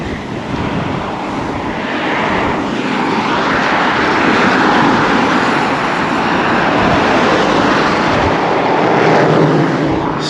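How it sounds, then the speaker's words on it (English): Strong gusting wind roars loudly and continuously at Acle Bridge on the Norfolk Broads in October, buffeting close with a rushing, blustery rumble and no talk. "That wind is wicked."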